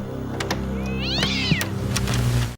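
A cat gives one clear, rising-then-falling meow near the middle, close and distinct over a soft steady background.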